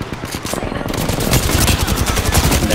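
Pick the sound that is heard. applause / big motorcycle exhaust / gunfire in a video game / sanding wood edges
gunfire in a video game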